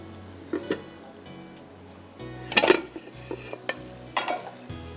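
Onions fry in Italia pomace olive oil, with a soft sizzle under several sharp bursts of a spoon stirring and scraping the pan.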